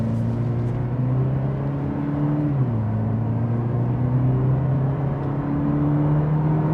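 A 2026 Cadillac CT4 Premium Luxury in tour mode accelerates at about half throttle, giving a steady, close engine drone whose pitch climbs, dips briefly at a shift, then rises again.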